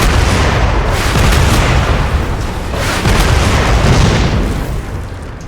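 Explosions in a PC video game on a 2006 gaming rig running Windows Vista: a loud, sustained rumbling roar of blasts that swells, dips briefly, then surges again before easing off, with no talking.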